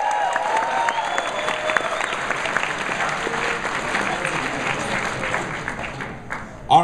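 Audience applause from a crowd at a convention voice-acting panel, steady clapping throughout under a hall murmur with a brief louder burst near the end.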